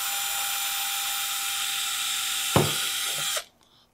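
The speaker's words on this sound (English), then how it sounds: "drill through the plastic piece and into the liner" A power drill whines at a steady high pitch, grinding through a plastic piece into a car glove box liner, with a brief crunch near the end before the motor abruptly stops.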